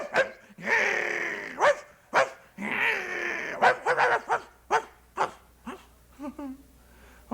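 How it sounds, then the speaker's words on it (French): A dog barks and yips in a string of short, sharp bursts, with whimpering and low growling mixed in, the barks coming close and loud before tapering into smaller yelps toward the end. "Et puis là, le chien qui se met à grogner."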